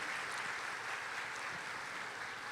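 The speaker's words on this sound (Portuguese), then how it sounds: "uma salva de palmas para a Dani" Audience at a motivational talk applauds together, a dense, steady clapping that holds evenly throughout with no speech over it.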